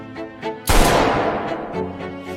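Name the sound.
gunshot sound effect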